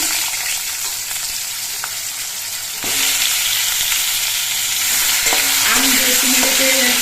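Chopped mango dropped into hot oil with panch phoron, a loud close sizzle that swells after a sharp clatter as the pieces go in, followed by stirring scrapes, no talking.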